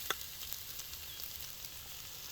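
Rice tossed into a hot pan for Thai prawn fried rice sizzles with a soft, steady frying crackle, faint and alone, with a small clatter at the start.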